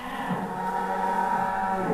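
Simmental and Limousin cattle for sacrificial sale at a busy livestock market in Bogor, a low sustained moo rising over a murmuring crowd background.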